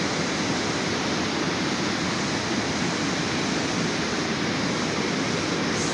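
After rain, the overflowing Parramatta River rushes past the Quay walkway bridge in Sydney as a loud, unbroken roar of water from close by.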